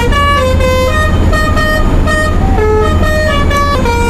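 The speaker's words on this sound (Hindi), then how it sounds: "तो मैं हॉर्न सुनाऊं।" Loud, continuous truck horn honking in rhythmic bursts over a droning engine in a driving video game played on a Logitech G29 wheel, harsh and close throughout.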